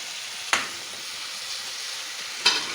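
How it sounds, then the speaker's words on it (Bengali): Vegetables sautéing in a pan for a Maggi noodle dish with scrambled egg, giving a steady close sizzle throughout, with two sharp scraping stir strokes from a spatula, one early and one near the end. "সবজিগুলো হালকা একটু কষিয়ে নিয়ে"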